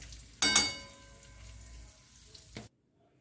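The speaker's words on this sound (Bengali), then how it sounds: "অলরেডি আমি কড়াইয়ে দিয়ে দিয়েছি, কাজুটা হালকা হালকা ফ্রাই হবে" Cashews and raisins fry in oil in a wok, giving a loud burst of sizzling as they go in. A steady crackle follows and then cuts off abruptly.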